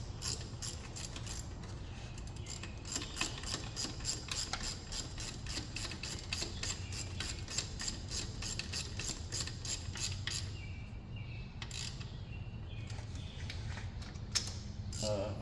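A hand ratchet clicking rhythmically while tightening alternator bolts on a 2002 Jeep Grand Cherokee Overland 4.7 H.O., steady close repeated clicks for about ten seconds, then a few scattered tool sounds.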